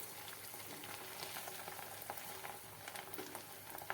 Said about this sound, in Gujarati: ભજીયા આપણે ક્રિસ્પી થાય ત્યાં સુધી આપણે ભજીયાને તળી લેશું